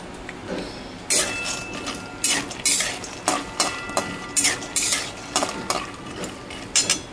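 Peanuts fry in hot oil in a kadhai, with soft sizzling under repeated scraping and stirring clatter of a spoon against the pan, about a dozen strokes.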